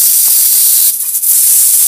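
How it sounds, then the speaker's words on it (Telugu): Pressure cooker cooking beans gives off a loud, continuous whistle of escaping steam, a harsh, steady hiss that dips briefly partway through. "2 విజిల్స్ ఉడికిన తర్వాత"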